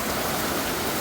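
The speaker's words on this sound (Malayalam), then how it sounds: "തോരാത്ത മഴ, ഇടിയും മിന്നലും ഒക്കെ ഉണ്ട്." Heavy, unceasing evening rain in Kerala during a flood-causing downpour, a dense, loud, steady hiss of water pouring down with no distinct thunder clap.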